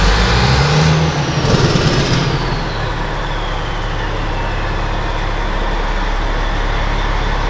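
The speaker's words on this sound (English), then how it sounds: "Looks like we're testing the Jake brakes." A dump truck engine roars loudly with a harsh rattling burst of Jake brake engine braking early on, then settles into a steady low rumble close by.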